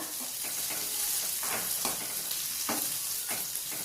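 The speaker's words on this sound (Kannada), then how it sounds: "ಚೆನ್ನಾಗಿ ಕೈ ಆಡಿ ಸ್ವಲ್ಪ ಅದು ಈರುಳ್ಳಿ ಕಲರ್ ಚೇಂಜ್ ಆಗಲಿ" Chopped onions with turmeric fry in a pan for onion rice bath, giving a steady close sizzle broken by repeated scraping stirs of a spoon.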